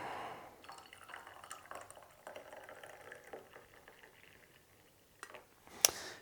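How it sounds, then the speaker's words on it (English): Hot water is poured into a hot claret phosphate drink made with claret syrup and acid phosphate, giving a faint, steady liquid trickle with a brief sharp clink near the end. "And then simply add hot water."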